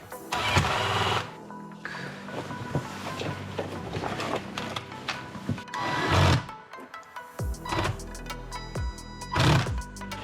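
Bolts being tightened while mounting a buggy light, close ratcheting and mechanical whirring bursts with clanks and pauses between them, fairly loud and without speech.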